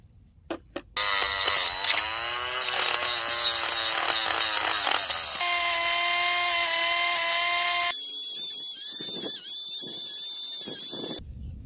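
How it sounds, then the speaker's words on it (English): A rotary emery cloth tool spins against pitted metal contact surfaces, giving a loud, close, steady high-pitched whine that shifts pitch as the load changes, with no talking. "I have a rotary emery cloth,"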